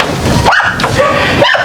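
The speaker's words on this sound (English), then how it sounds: "Noisy dogs." Several dogs bark and yip sharply at close range in the Jamaican countryside, a quick run of loud barks and higher whimpering yelps over outdoor background noise.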